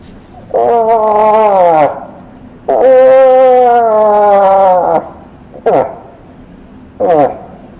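A voice imitates a bull moose with long, drawn-out groaning calls followed by two short grunts, loud and close.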